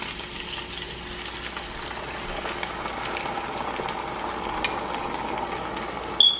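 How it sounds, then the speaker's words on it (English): Sauce mixture goes into a pan of cooked pepper steak, giving a steady, close bubbling simmer and sizzle that keeps going throughout, with a brief clatter near the end. "The next thing I'm going to do is add my sauce mixture."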